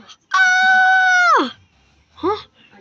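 A loud, sustained high-pitched scream lasting about a second, ending in a falling pitch, followed by a shorter wavering cry.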